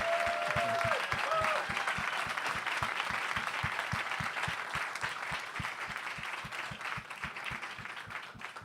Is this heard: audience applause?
yes